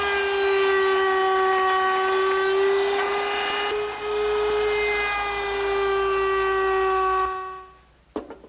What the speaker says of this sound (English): Now I'll make that dovetail using my router table.